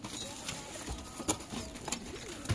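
Pigeons in a home loft cooing softly, low throaty calls recurring amid faint rustling and a few sharper chirps, quiet and close, with light background noise.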